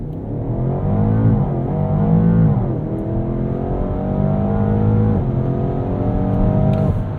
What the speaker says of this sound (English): Full left foot on the brake, full right foot on the gas.